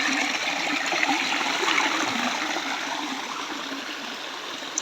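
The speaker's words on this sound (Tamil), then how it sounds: "ஒரு ஃபால்ஸ், சின்ன ஃபால்ஸ் வருது" Water from a small mountain waterfall stream at Megamalai rushes in a steady, even wash of noise that stays constant from start to finish, with no voices.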